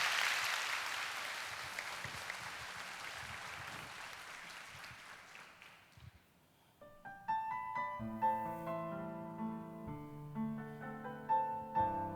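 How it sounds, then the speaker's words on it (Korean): A church audience claps in sustained, loud applause that fades out, followed by a praise band starting to play. "우리 박수로 청해 듣도록 하겠습니다."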